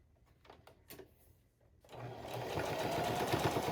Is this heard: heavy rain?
no